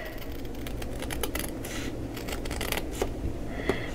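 Scissors snip through craft scraps in a quiet craft room, a run of crisp, close cuts in quick uneven succession with no talk.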